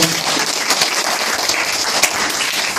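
Church congregation applauding, a dense, even patter of many hands clapping for a few seconds.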